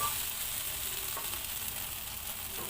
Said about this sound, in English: Then I put my fried rice.